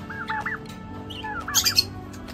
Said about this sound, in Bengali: এদিকে কিছু পাখি রয়েছে, কিচির মিচির করে আওয়াজ করছে